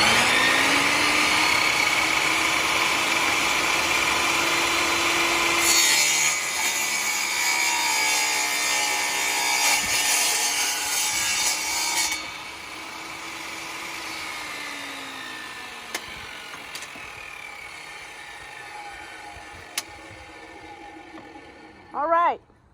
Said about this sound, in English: So you definitely want to use a table saw with all of the safety precautions.